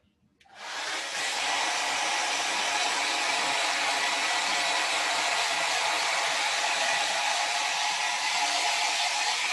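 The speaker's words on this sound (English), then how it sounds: "I'm gonna hit mine with a blow dryer." A hair dryer switches on and blows continuously at full power, a loud, steady rushing whir with no other sounds.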